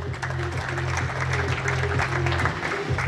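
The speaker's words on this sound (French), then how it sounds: "Pour l'équipe de Rouen, on peut les applaudir." Indoor crowd at a table tennis league match clapping for the Rouen team, a dense sustained patter of many hands under a loudspeaker hum, fairly close and steady.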